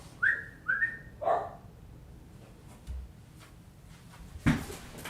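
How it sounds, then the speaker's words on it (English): A pet dog indoors gives a few sharp barks, close and fairly quiet, spaced out with pauses, plus a final louder bark near the end. "Sorry, live streamers, for having to listen to my dog bark."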